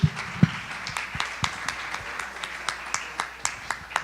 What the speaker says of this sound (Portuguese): Gente, salva de palmas aí pro Luiz